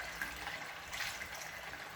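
Cold water is poured over raw chicken in a container, a faint, steady splashing trickle that continues for a couple of seconds.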